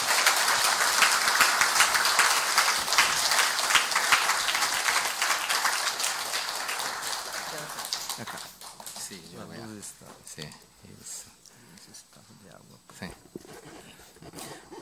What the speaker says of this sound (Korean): 우리 뜨거운 박수로 두 분을 모시도록 하겠습니다